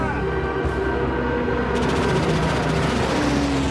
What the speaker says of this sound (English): German cannon shells rip into the rear turret